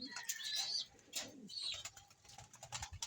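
Pigeons drinking pineapple-flavoured electrolytes coo softly nearby, with faint chirps and a brief flutter of wings over quiet background noise.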